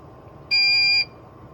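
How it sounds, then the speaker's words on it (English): A QNAP TS-251D NAS gives a single short electronic beep, about half a second long, bright and tonal over a quiet room background. "What's that beeping noise?"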